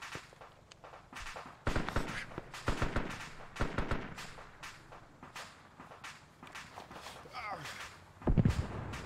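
Bursts of gunfire from a 76 weapon in a video game, several sharp shots and short volleys scattered across the clip at varying distance, with footsteps and other game noise between them.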